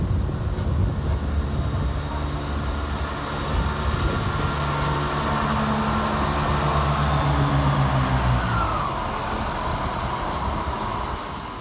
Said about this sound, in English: Arriving to terminate with a Chiltern Railway service off Stratford-upon-Avon is 168321.